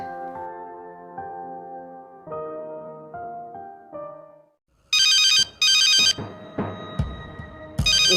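A phone ringtone plays a melodic tune, then loud electronic ringing bursts repeat in quick pulses, close and clear with no talking.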